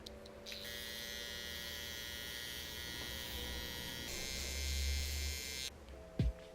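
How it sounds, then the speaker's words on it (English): Electric beard trimmer run over the cheeks, a steady close buzz holding for about five seconds, then cutting off, followed by a brief knock. "Now I'm going to remove the hair on top of my cheeks with my trimmer"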